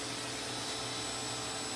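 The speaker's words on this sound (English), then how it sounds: "you're gonna start your vacuum" A vacuum cleaner rigged as a homemade water pump runs with a steady, faint, constant whooshing drone, without pauses or other sounds.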